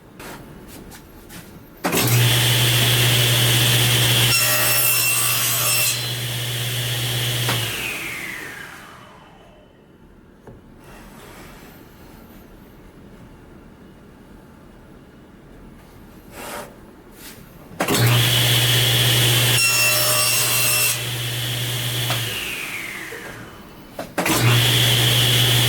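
Power saw cutting corner to corner through a wooden box for chevron spline box joints, two loud sustained cuts with a steady motor whine and a descending spin-down between them.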